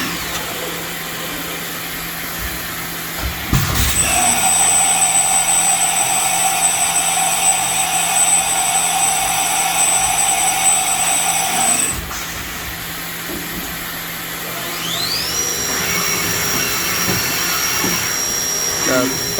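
Spindle of a new 2018 Southwestern Industries Trak LPM vertical machining center spinning at high speed, a loud steady whine that holds for several seconds then spins down, with someone talking nearby.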